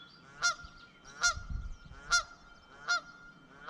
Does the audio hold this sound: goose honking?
yes